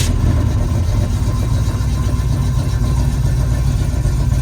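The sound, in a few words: Oldsmobile 403 V8 engine cranking and running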